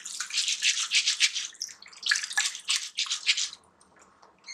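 Urad dal with husks is rubbed by hand in fresh water, giving bursts of wet sloshing and splashing that come in uneven waves, loud and close, then trail off into near quiet with no talking.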